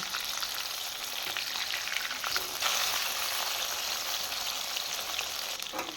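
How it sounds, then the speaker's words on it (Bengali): Rohu fish fillets fry in hot oil in a pan for a mustard paturi dish, giving a steady, dense sizzle with faint crackles and a brief clatter near the end, no voices. "এখন আরেক পিঠ একইভাবে ভেজে নেব।"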